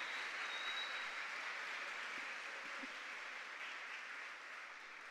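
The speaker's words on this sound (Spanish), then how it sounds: "reconocemos su talento con un caluroso aplauso que se escuche hasta Inglaterra" Warm applause at a provincial oratory competition in Herrera, steady and even clapping heard quietly from a distance, fading a little at the end.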